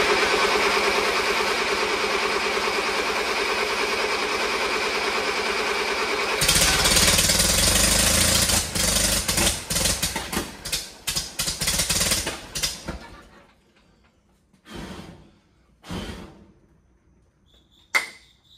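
An International 140 Industrial tractor engine with a swapped carburetor catches and runs loudly, shifting to a sharper, uneven beat, then sputters down into irregular bursts and brief revs before falling quiet.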